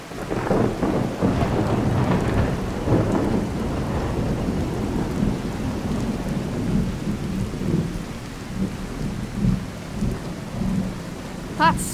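A thunderstorm rumbles loud and close, with heavy rolling thunder and steady rain beating down throughout, the low booms swelling and fading over the continuous patter.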